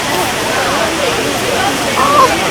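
A waterfall in Puerto Rico's rainforest rushes as a loud, steady wash of white noise close by, with faint voices barely present under the roar.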